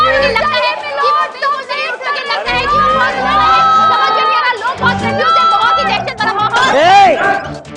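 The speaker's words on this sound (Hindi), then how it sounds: "क्यों चिल्ला रहे हो, क्यों चिल्ला रहे हो?" Several people shout and talk over one another in a courtroom, a loud, dense jumble of raised voices close by, with one voice rising sharply near the end.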